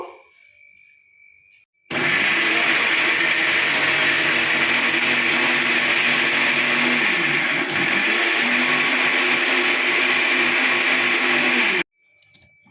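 A mixer grinder blending curd and cashews into a smooth paste runs as a loud, steady whirring roar for about ten seconds, starting and stopping abruptly, with quiet before and after.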